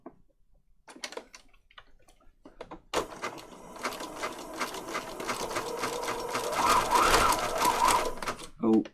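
A sewing machine zigzag-stitches paper patchwork tags, starting after a few seconds of quiet handling clicks and then running as a loud, steady, rapidly ticking whir until it stops abruptly.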